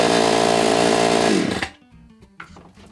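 A Chinese-made chainsaw starting for the first time roars loudly and steadily at full throttle, then cuts off and fades, leaving faint clicks and mechanical rattles.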